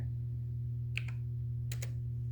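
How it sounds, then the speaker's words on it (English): A few quick keystrokes on a computer keyboard type a reboot command on a GNU/Linux system, landing in two brief clusters of clicks over a steady electrical hum, with no talking. "I'm just gonna type reboot."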